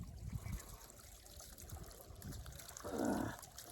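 Water trickles steadily from a farm pipeline in an open field, a faint continuous dribble with a slightly stronger gush near the end over low outdoor background noise.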